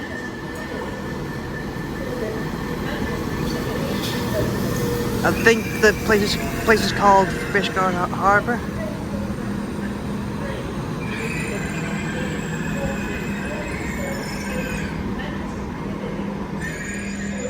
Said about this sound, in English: Train now arriving in is a Transport for Wales